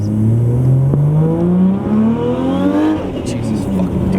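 A 900+ hp right-hand-drive Nissan R34 GT-R with an RB26 engine revs and accelerates through rising gears, loud and close inside the car, with a sharp shift and a brief drop in pitch near the end.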